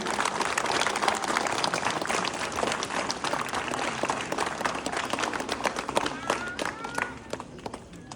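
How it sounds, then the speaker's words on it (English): Applause ripples through a school assembly at a student council investiture, a busy steady clatter of many hands, moderately distant, with voices faintly mixed in before it thins toward the end. "A big round of applause for Pushkar Tapagai."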